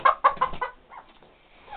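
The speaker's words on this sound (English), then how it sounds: "Here we have one of our chickens on the rail that we built here." A chicken clucks close by, a quick run of four or five throaty clucks followed by a softer trailing note.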